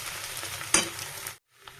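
Papad pasta fries and gets stirred in a pan, a soft continuous sizzle with a sharp scrape near the middle, then a brief silence before the frying noise returns quietly.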